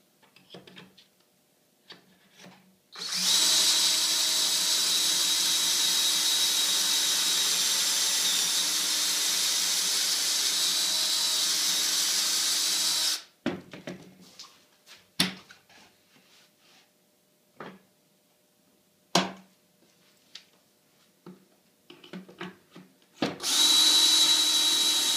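A power drill bores holes in wood for a custom under-stairs cabinet: a long steady whine for about ten seconds, then short bursts and pauses, and a final run starting near the end.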